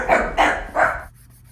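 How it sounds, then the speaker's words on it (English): Indoor dogs barking, three loud, close barks in quick succession that then stop abruptly, with no talking. "My dogs heard my daughter and they started barking."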